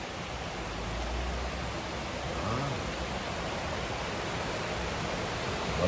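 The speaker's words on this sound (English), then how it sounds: "I just want to show you the rain" Rain falls outdoors near a plaza as a constant, even hiss of drops, steady and moderately loud with no break.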